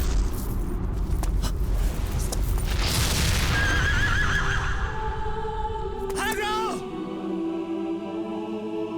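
A horse in the video game Shadow of the Colossus lets out a loud, wavering neigh near the end, after several seconds of heavy rumbling and booming game sound.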